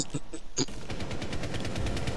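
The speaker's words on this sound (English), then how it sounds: "They shooting shit up right there." Video game gunfire crackles in rapid automatic bursts, a few separate shots and then a sustained rattling stream of fire, fairly loud and alone.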